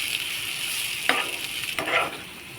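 Onion and dried prawns stirred and fried together in a pan for a prawn roast, with a steady close sizzle and a few sharper scraping strokes of the spoon.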